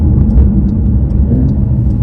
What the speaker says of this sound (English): This particular one has the 3-litre twin turbo flat 6, producing 480 horsepower at the wheels.